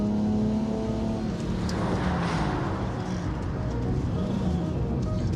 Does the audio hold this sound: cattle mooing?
no